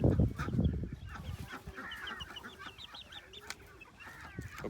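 Chickens and chicks on a poultry farm cluck and chirp nearby in a steady, busy chatter, with some handling noise at the start.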